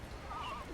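A horse gives a brief, faint whinny over a low, steady background rumble, one short neigh rising and fading within a second.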